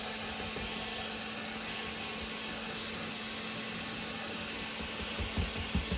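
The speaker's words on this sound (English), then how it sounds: "I will heat set from a distance just to prevent the fact that it might damage my ribbon." A heat tool blows steadily while heat-setting crackle paint on a ribbon, a constant whooshing hum held at a distance, running alone without a break for the whole stretch.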